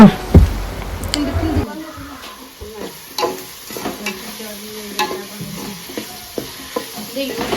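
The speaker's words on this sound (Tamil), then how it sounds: "கொஞ்சோண்டு உப்பு போட்டுட்டு வதக்குங்க சரியா" Onions sautéing with a little salt in a pan while being stirred, giving a steady sizzle with repeated scraping clicks, for a Tamil-style banana fish fry.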